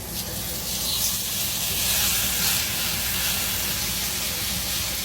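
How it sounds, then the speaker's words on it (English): Steaks with their fat caps down searing in a very hot pan, a loud, continuous hiss of spitting fat close up that stays steady throughout. "I'm gonna go ahead and throw the fat caps down first, then I'm gonna sear each side for about 90 seconds"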